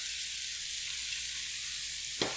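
Garlic for a chicken stir fry sizzles steadily in a hot pan, an even hiss throughout with one brief clink near the end.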